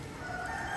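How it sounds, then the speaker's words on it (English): A chicken crows in the background at the Batu Caves, a steady rooster call blended into the broad ambient noise of the site, brief and moderately loud. "And yes, that is a chicken you're hearing."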